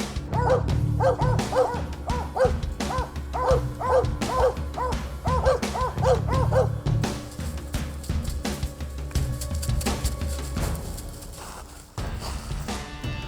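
Mountain cur hunting dogs bark steadily at gray squirrels treed in the woods, with loud repeated bays in rhythmic bursts that fade toward the end amid rustling and footsteps.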